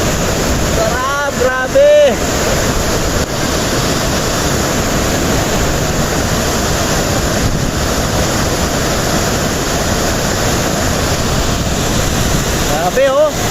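A waterfall roars as a constant loud broadband rush of water, blended with wind buffeting the microphone. Brief exclamations from a man are heard near the start and again at the end.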